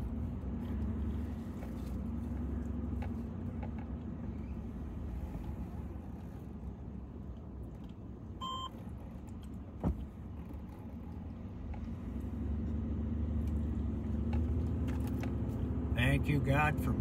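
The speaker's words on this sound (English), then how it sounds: "What's around this corner? Oh, cars." Steady vehicle rumble and wind noise accompany driving along the winding Needles Highway, with road drone throughout and a brief knock midway; speech is intermittent.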